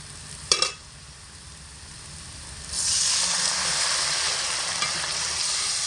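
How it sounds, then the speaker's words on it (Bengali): Hot water hits sautéed potato and spice masala in a pan; after a brief clink, a steady sizzle swells into a louder, continuous hiss. "এবার এর মধ্যে আমি গরম জল দিয়ে দেব"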